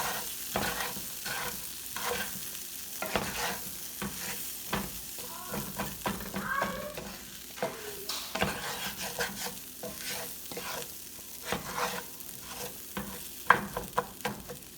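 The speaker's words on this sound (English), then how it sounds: "now I'm going to stir it all up, dry toasting all the spices and lentils and onions and garlic" Spices, lentils, onions and garlic being stirred and dry-toasted in a pan for Pakistani daal, with repeated close scraping strokes of a utensil over a faint sizzle and no talk.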